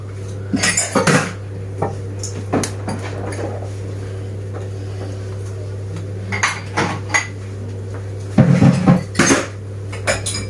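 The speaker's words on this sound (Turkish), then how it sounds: "Bu bulaşık hiç bitmiyor bizim evde." Dishes and cutlery clatter intermittently at close range, with scattered clinks and knocks and a louder burst of rattling near the end, over a steady low hum.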